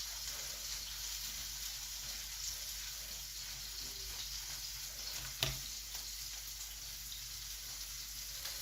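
A piece of meat for a sandwich sizzles quietly in a pan. The frying hiss is steady and faint, with one brief clack midway, and no voices.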